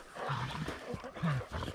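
A hunting dog barks and growls during a wild boar hunt in the woods, a few rough close calls in a short, uneven burst.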